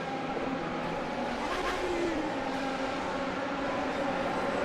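Aston Martin race cars battling on a circuit, a dense continuous engine roar with a faint rising and falling pass near the middle, steady and moderately distant.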